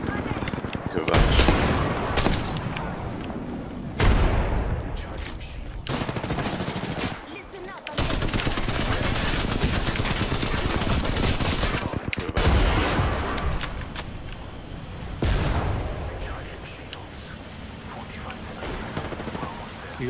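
Rapid automatic gunfire bursts from the video game Apex Legends, loud and repeated in clusters with brief pauses, players talking over the shooting.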